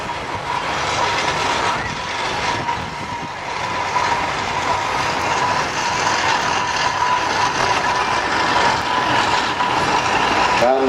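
Borough Road steam traction engine locomotive, built by its owner after the last Borough loco, passing at a Driffield steam rally: a steady, fairly loud broadband rumble and clatter of the running engine, sustained throughout with outdoor crowd ambience.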